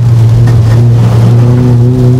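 A race car on a track under throttle, with a loud, close, sustained engine drone and strong steady harmonic tones. No one speaks.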